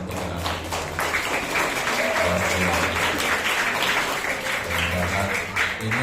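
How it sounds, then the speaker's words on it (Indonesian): An audience at a school certificate ceremony applauds the children, with steady clapping and a murmur of voices over a low musical hum. "kita berikan apresiasi tepuk tangan untuk anak-anak"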